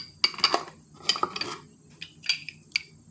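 Plates and a spoon handled in a kitchen while preparing yellow rice: quick bright clinks and clatters in a few short bursts, close by and moderately loud.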